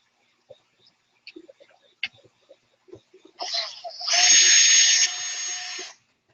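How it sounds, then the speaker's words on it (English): A power drill with a drill bit whirs up in a steady, high-pitched burst lasting about two seconds, preceded by a short rising spin and scattered clicks and handling noises. "if you just reverse your drill when it's a drill bit like this, then it won't catch anymore"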